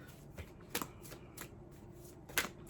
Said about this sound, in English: And I'm shuffling.